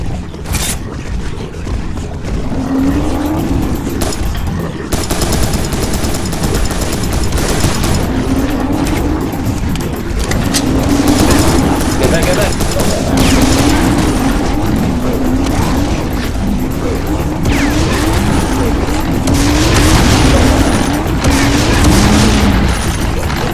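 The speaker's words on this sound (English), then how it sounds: "That's a lot of rockets." Many rockets firing and exploding in Serious Sam 3 BFE, a dense, sustained barrage of booms and whooshes rolling on without pause, loud and close throughout.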